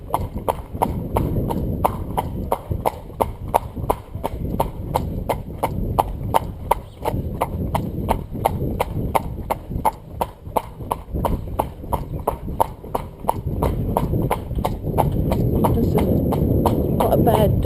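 Rhythmic clip-clop of horse hooves on a hard surface, steady and close, with a person talking faintly under the hoofbeats.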